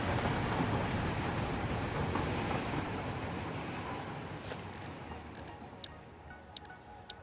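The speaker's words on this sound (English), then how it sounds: "Wait for this train to go by." A train in the Satisfactory video game rumbles past up close, with a loud, dense roar and rattling wheels that slowly fade, followed by a few faint clicks as it moves away.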